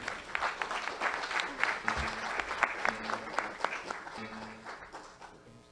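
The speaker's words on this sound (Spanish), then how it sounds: "Por favor, un fuerte aplauso." An audience claps for a university lecturer at a Peruvian congressional evening talk on José Faustino Sánchez Carrión, the applause fairly loud and sustained with some individual claps standing out and a few faint voices underneath.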